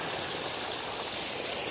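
Salty water gushes quickly from an outlet in a palm garden, a continuous rushing, splashing flow close by, steady and unbroken with no voices.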